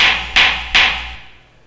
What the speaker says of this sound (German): Geräusch eines schlagenden Hammers.